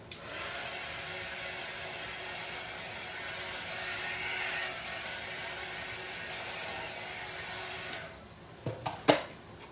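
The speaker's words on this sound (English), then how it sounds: "We'll grab the heat gun, heat this epoxy up just a little bit." A heat gun blows steadily while warming epoxy on a glitter-coated tumbler, giving a loud, constant airy roar for about eight seconds before it cuts off, followed by a few sharp handling clicks and knocks.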